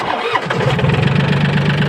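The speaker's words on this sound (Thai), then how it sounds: "สตาร์ททีเดียวติดเลย" A small diesel engine in a motorhome cranks briefly and catches on the first try, settling into a steady, rumbling idle up close with no voices.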